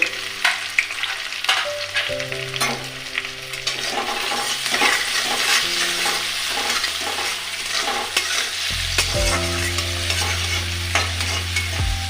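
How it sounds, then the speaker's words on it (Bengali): Fish head muri ghonto being stirred with salt in a frying pan: steady scraping stirs over a continuous oily sizzle, with a low hum throughout and no talking. "এবারে আমি এটাকে একটু নাড়াচাড়া করে আর নুনটাও দিয়ে নেব"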